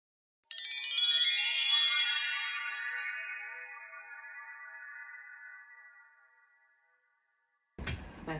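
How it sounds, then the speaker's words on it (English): An alarm rings with a bright, chiming electronic melody that starts abruptly, swells briefly and then fades over several seconds to silence, followed by a short thud of handling noise. "that's my alarm"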